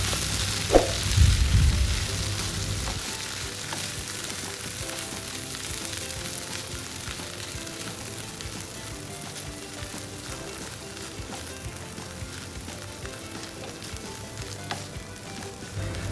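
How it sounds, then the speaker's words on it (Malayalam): Cowpeas for a coconut thoran are stir-fried in a pan, making a steady, even sizzle. A few louder clatters of stirring come near the start, and no one speaks. "നേരത്തെ ചെയ്തു വെച്ച പയർ അതിലേക്ക് ഇടുക നല്ല രീതിയിൽ എല്ലായിടത്തും എത്തുന്ന രീതിയിൽ തന്നെ ഇളക്കി കൊടുക്കുക"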